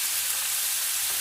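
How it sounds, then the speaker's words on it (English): Beef stir-frying for flat rice noodles in a hot pan: a steady, bright sizzle throughout, close and even, with no talking. "Okay, stir fry a little bit."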